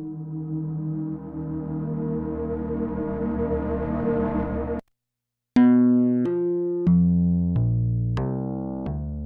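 Clean, bright synthesizer tones from a virtual emulation of a Yamaha DX7: a long sustained chord swelling, then a short silence and a sequence of crisp plucked FM-style notes.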